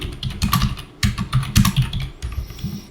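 Fingers type on a computer keyboard while writing code, with rapid, loud, close clusters of key clacks in uneven bursts separated by brief pauses and no speech.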